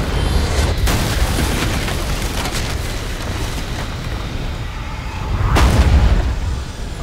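Gunshots and booming blasts in the Alan Wake video game, a dense barrage of sharp reports over a rumbling low roar, with a heavier burst of firing near the end.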